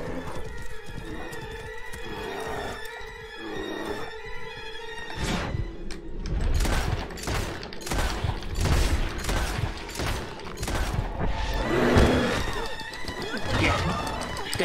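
Gunfire crackles in the video game Red Dead Redemption II, sharp repeated shots in bursts mixed with horse whinnies and hoofbeats, after a quieter opening.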